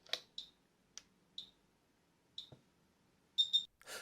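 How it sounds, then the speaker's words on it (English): A Filmomat F-stop timer gives several sharp clicks and beeps while it exposes a darkroom test strip under an enlarger. They are spaced irregularly and end with a short double beep, close and crisp in a quiet room. "I place my test strip under the enlarger and expose the whole test strip."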